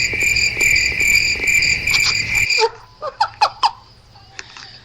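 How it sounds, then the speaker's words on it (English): A crickets-chirping sound effect plays on a music talk show, with bright rapid pulsing chirps in a steady rhythm for a couple of seconds, then stopping as faint voice sounds follow. "Had the crickets come out there for a second."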